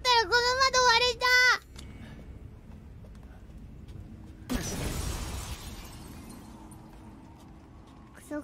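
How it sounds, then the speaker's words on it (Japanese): A glass window shatters in a horror video game, a loud burst of breaking glass that then decays into a lingering crash and rattle. A voice talks just before it. "割れないと思ったらこの窓割れた。"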